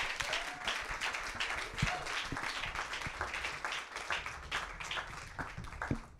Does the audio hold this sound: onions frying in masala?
no